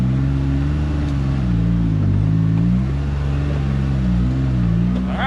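A Polaris Ranger 1500 XD side-by-side engine drones loud and steady, its pitch climbing, dipping and climbing again as it shifts through gears, close and continuous with no talking.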